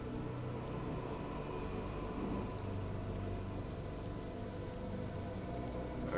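Steady rain pours in the Killer is Dead video game as the skies turn dark: a dense, even hiss continues throughout, with a faint low rumble underneath and no pauses.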